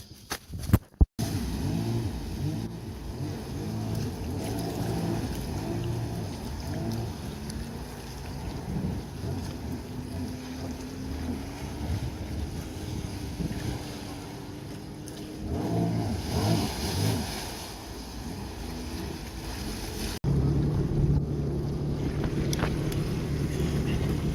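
A 2021 Sea-Doo Spark Trixx personal watercraft engine runs steadily after an impeller and wear ring replacement, wind buffeting the microphone, the drone rising briefly as the throttle opens.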